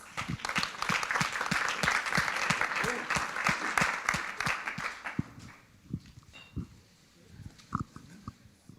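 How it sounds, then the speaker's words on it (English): A summit audience gives a dense burst of applause for South Africa's finance minister, loud at first, then thinning into scattered claps that fade out. "I would like an extra applause"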